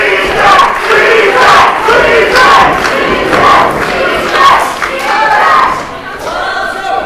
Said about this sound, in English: the louder that this crowd cheers, the more DH responds.